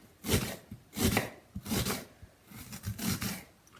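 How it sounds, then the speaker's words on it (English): Knife chopping an onion on a cutting board, about five distinct close chops spaced roughly evenly, each a short crisp thud with a faint rasp. "Cut up my onion here."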